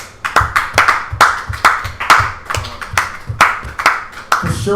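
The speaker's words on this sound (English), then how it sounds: "let's give the Most High a round of applause" Clapping from a church congregation at a feast days service, rhythmic near hand claps in a steady repeating beat, loud and without talk.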